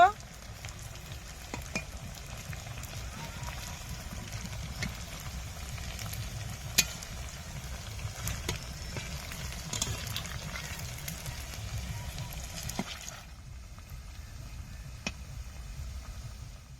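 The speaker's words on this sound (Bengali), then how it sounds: "তেল গরম হয়ে গেছে একটা একটা করে ছেড়ে দেবো" Flattened rice sweets fry in hot white oil in a kadai, giving a soft, steady crackling sizzle that holds for most of the stretch before cutting off near the end.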